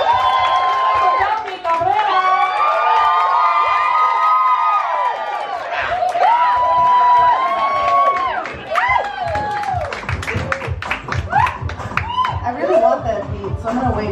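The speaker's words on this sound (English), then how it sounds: "So start clapping now, we're clapping." Audience at a live comedy show clapping and cheering steadily throughout, a dense crowd sound with laughter and voices mixed in, a host talking over it.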